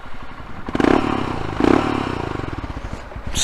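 A Royal Enfield Himalayan 411 motorcycle engine cranks and catches with a few uneven thumping pulses, then sputters and dies as it stalls, close and fairly loud over about three seconds.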